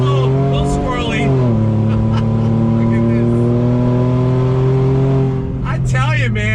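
A Ford F-150 RTR truck's engine drones loudly and steadily as it accelerates on throttle, pitch dropping briefly at a gear change, while a person talks over it near the end.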